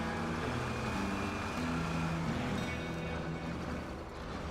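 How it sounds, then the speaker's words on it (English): A vehicle engine in a video game drones as a steady, loud, broadband rumble that holds evenly throughout, with no voices heard. "Oh, the engine sound."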